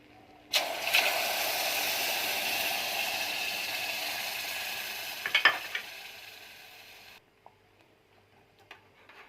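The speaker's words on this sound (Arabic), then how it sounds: "وافضل اقلب فيهم لحد ما القوام يتقل" Pasta water poured onto a flour roux in a pan for béchamel sauce sets off a loud, hissing sizzle that holds for several seconds, then fades as it is stirred, with a couple of light utensil clinks near the end.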